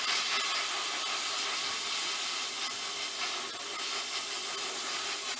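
An airbrush sprays paint onto a 1/35 scale armoured vehicle model, a continuous close airy hiss with slight sputtering as it spits a little, steady throughout without speech.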